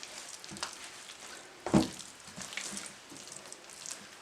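Pumpkin halwa being stirred in a pan, with soft scraping and a faint sizzle, a sharper clatter near the middle, and no talking.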